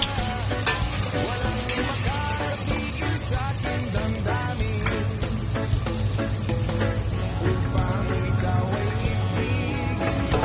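Sardines stirred with salt in a frying pan, a steady close sizzle of frying broken by repeated scraping and clinking stirring strokes across the whole stretch, with no talking.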